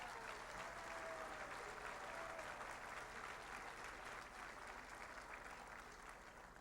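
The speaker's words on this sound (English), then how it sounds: "Let's give them a big round of applause." Sustained applause from a crowd at a 1996 Democratic National Committee dinner with President Clinton, honoring a couple's 33rd wedding anniversary, steady and dense throughout with no speech.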